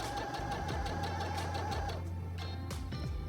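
A Singer 6805C sewing machine stitches steadily with a fast, even mechanical whir and rhythmic needle ticking, close by, then slows as it stops.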